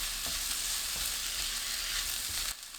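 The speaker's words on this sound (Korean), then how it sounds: "어묵 넣고 중불로 2분 볶아주세요." Fish cakes stir-frying in hot oil over medium heat in a pan, a dense, continuous close sizzle with faint stirring scrapes, cutting off near the end.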